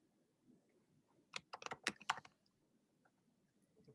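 Someone types on a computer keyboard: one quick burst of several crisp, close key clicks about midway through, with near silence before and after and no talking.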